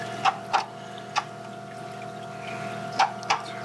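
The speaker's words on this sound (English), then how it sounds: "hit it too with my acrylic rod, and that really helps to break it up" An acrylic rod taps and knocks inside a 150-gallon aquarium, giving a few sharp clicks spaced irregularly over a steady pump hum and water background.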